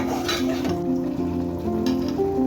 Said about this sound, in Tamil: மறுபடியும் ஒரு கிளறி கிளறிட்டு காய் வெந்திருக்கான்னு ஒரு வாட்டி பார்த்துக்கலாம்